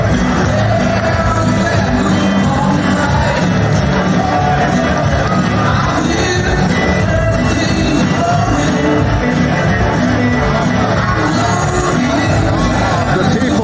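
A sold-out arena crowd at the Virgin Motors Arena roars and shouts after a Cage Warriors main event finish, a dense, loud, continuous wall of cheering and yelling that never lets up.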